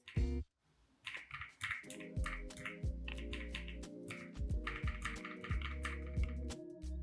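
Someone types steadily on a white mechanical keyboard with a 75% layout, the F75 model, giving a dense run of crisp, close keystroke clicks with brief pauses and no talk.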